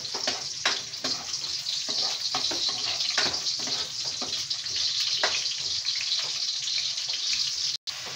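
Carrot and chayote sautéing with garlic and onion in a pan, a steady bright sizzle with frequent small crackles and pops, close and continuous throughout.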